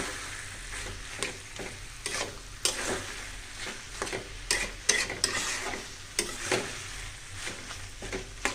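Vegetables and coriander leaves sizzling in hot tempering oil, a continuous sizzle broken by repeated stirring and spatula scrapes on the pan, close and fairly quiet, with no talk.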